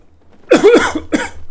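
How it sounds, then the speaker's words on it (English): A single close, loud cough in two harsh bursts, with no talking. "Sorry for coughing."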